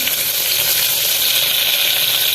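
Onions sauté with coarse rock salt in a hot pan while a soya dum biryani is being made: a steady, close, dense sizzle and crackle of frying that holds without pause throughout.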